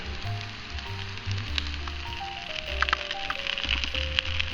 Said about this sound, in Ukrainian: Зерни смажуть з обох боків до утворення рум'яної кірочки.